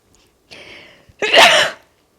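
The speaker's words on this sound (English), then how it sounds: "I have to sneeze." A single person's sneeze: a short breathy intake, a brief pause, then one sharp, loud burst that fades quickly into silence.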